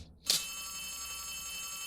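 A telephone starts ringing in the Poppy Playtime video game with a sharp electronic trill after brief silence, then a sustained steady tone.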